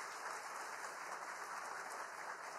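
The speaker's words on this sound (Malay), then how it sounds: "Kita bagi tepukan gemuruh kepada Yang Berhormat Tan Sri." Applause at a government excellence service awards ceremony, a faint, steady wash of clapping heard from a distance with no pauses.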